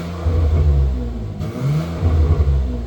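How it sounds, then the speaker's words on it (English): An Alfa Romeo car engine revs loudly and close by in two deep surges, rising, easing off, then swelling again. "when you hear that engine sound"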